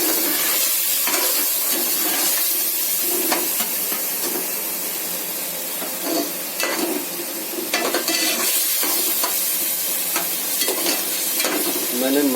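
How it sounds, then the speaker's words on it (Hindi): Beef frying in a pan with chili, garlic and ginger paste for beef biryani, a steady loud sizzle and hiss with repeated stirring scrapes throughout, no talking. "साथ ही हमने इसमें गोश्त डाल दिया और अब हम इसको जो है फ्राई करेंगे।"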